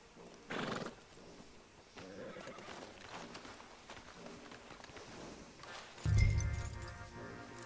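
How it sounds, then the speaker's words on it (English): Horses in the Red Dead Redemption 2 video game neigh and whinny in two loud bursts, with hooves clip-clopping and gear clinking between them in an outdoor setting. "Marston, you're gonna tether him up to Javier's horse."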